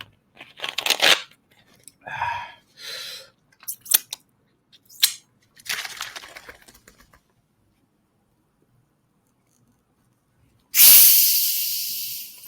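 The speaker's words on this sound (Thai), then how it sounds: "จะให้ได้ยินเสียงเปิดขวด" A soda bottle is cracked open at an ASMR snack session, a sharp loud fizzing hiss that bursts out and then trails off, following scattered crinkles and chewing sounds.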